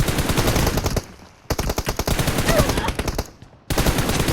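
Rapid automatic gunfire from PUBG Mobile comes in several loud bursts of close, evenly spaced shots separated by brief silent gaps.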